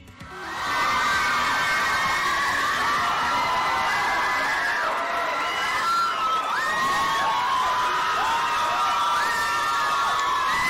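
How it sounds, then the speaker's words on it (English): A large crowd screams and cheers for a Swazi performer, loud, high-pitched and sustained shrieking that stays intense and dense for ten seconds without letting up. "The last time you heard such deafening screams was when Michael Jackson came to Swaziland."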